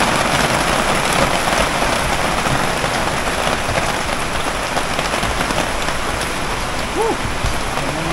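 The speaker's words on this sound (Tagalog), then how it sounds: "Nabot na nga ng sadyang unos." Heavy rain pours down in a storm, a dense, loud, unbroken hiss of drops striking surfaces that fills the whole stretch with no pauses.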